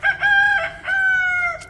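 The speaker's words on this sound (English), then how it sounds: "My chickens." A backyard rooster lets out a loud, close crow in a few drawn-out harmonic phrases, with faint hen clucking beneath.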